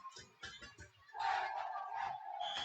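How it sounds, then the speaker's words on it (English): A student crowd at a high school girls' volleyball match cheers and yells, rising abruptly from scattered voices into a loud sustained roar of noise. "As this Flippin student crowd making some noise"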